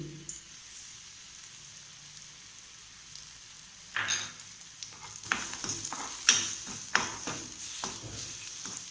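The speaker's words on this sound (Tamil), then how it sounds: "இதே லைட்டாக பச்சை வாசனை போகிற வரையும் வதக்கிக்கலாம்" Tamarind and garlic sauté in a pan for beetroot chutney, a soft sizzle at first, then scraping stirs and clinks from about four seconds on as the spoon works the pan, close by with no talking.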